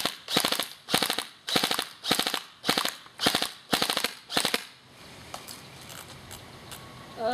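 A toy gun fires at a watermelon in eight rapid, evenly spaced bursts of sharp popping shots, close and loud, followed by a lower rustling hiss with no talk.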